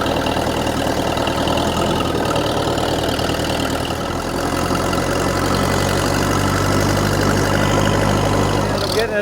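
Engine of an old, previously abandoned Case 450 bulldozer idling with a steady mid-to-low rumble, continuous and close throughout, the pitch settling slightly lower partway through, with a brief clatter at the very end.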